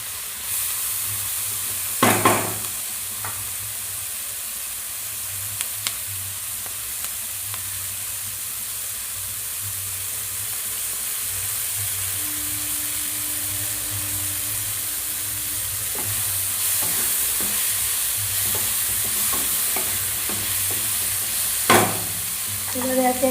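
Chilli chicken with garlic fries in a pan, giving a steady loud sizzle and hiss throughout. A few scraping stirs and clanks of a spatula are heard, close by, with no voices.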